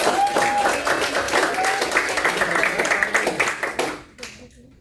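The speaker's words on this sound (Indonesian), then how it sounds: "kasih tepuk tangan dulu dong" A class of students claps together for a few seconds in a classroom economics lesson, with voices chattering over it, before the applause quickly dies away.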